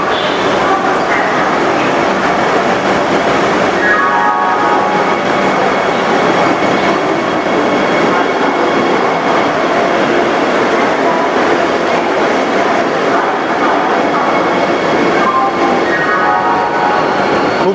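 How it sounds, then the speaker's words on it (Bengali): Howrah–Puri Vande Bharat Express (22895) pulling into a platform at Puri railway station, a steady loud rumble of rolling coaches and rail noise throughout, with dogs barking nearby and voices in the crowd. "আমাদের সামনে এখন ঢুকছে হাওড়া পুরী বন্দে ভারত এক্সপ্রেস"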